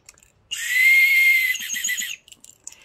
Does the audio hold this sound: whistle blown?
yes